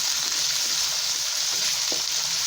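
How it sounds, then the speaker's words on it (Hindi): Ground green chili frying in a pan for an aloo gobhi dish, a steady soft sizzle running evenly throughout at close range, with no talking. "ये वाली ग्रीन चिली पीसी हुई ये भी हम ऐड कर दी और इसको भी हम हल्का सा इसके साथ फ्राई कर लेंगे।"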